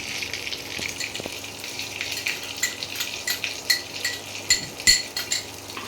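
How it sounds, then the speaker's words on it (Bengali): Sesame and chili paste with milk stirred in a pan, heard as steady close scraping and swishing with soft repeated metallic clinks of the spoon, growing busier toward the end. "ভালো করে নাড়িয়ে নিলাম"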